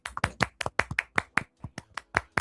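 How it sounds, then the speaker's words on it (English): Sparse, separate handclaps from a small audience welcoming a wrestling talk-show guest, about a dozen sharp claps spread evenly, close and moderately loud, with no voices. "please give him a warm round of applause."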